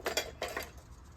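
Cast iron skillet handled inside a camp kitchen bin, giving a few quick metallic clinks and clatters in two short clusters, close and fairly faint.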